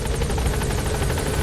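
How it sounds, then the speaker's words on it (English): In Metal Gear Solid V, a helicopter arriving at a landing zone throbs with a loud, close, steady rotor chop and engine roar, with no voices over it. "You have to call on the helicopter from Mother Base"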